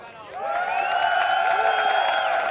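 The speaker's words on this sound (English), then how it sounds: "let me hear a cheer for Epic in the crowd and at home" A crowd at an MLG Providence League of Legends tournament cheers and whoops for the team Epic, rising after a brief pause into a loud, sustained roar of voices that holds steady to the end.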